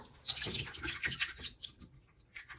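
Running water rinses a squeeze converter from a Pilot Metropolitan fountain pen, a close, soft splashing and trickling that fades out toward the end.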